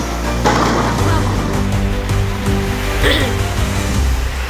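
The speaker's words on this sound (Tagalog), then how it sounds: "Lakas ng ulan." Dense, loud rushing noise of heavy rain in Roblox, steady throughout, with faint game sounds and a brief voice underneath.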